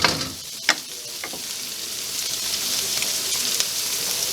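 Pork fried rice sizzles steadily in a pan, a close, continuous hiss of frying with a few sharp clicks and scrapes of stirring near the start, with no talking over it.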